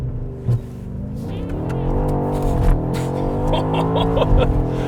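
A 2021 BMW X6M Competition engine revs up hard under full throttle, its pitch climbing steadily through automatic upshifts with a loud, close roar.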